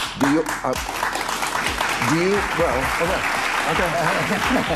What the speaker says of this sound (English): That must be the applause for the whole part.